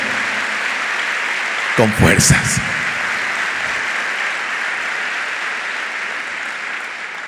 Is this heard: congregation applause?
yes